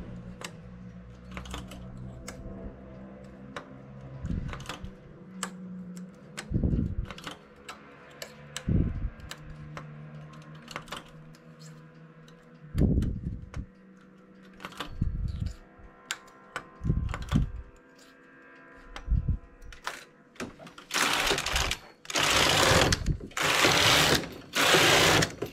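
A domestic knitting machine carriage works rib stitches, giving rhythmic clacking runs and sharp ticks across repeated passes. Dense, loud bursts of carriage travel come near the end, with occasional quiet speech between passes.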